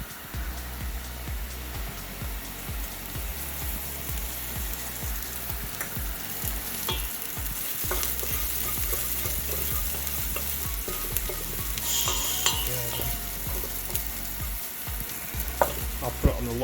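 Onions and garlic sizzle and fry in a pan for a chicken madras, a steady loud crackling hiss with occasional stirring scrapes throughout.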